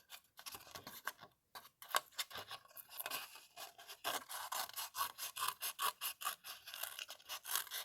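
Scissors cut out patterned paper from a spring cottage bloom collection, with close, quiet snipping and rustling that quickens into a rapid rhythmic run of cuts near the end.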